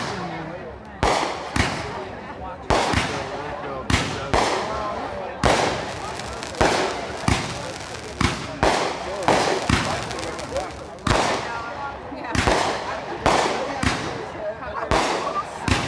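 Fireworks launched from tubes burst in a rapid, irregular series of loud, sharp cracks and booms across the whole stretch, with people talking between the blasts.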